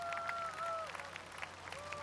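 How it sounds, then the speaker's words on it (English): Audience applause at South Korea's 71st Armed Forces Day ceremony honouring the Air Force, a short burst of scattered clapping beneath a sustained tonal hum, fairly faint and distant. "round of applause."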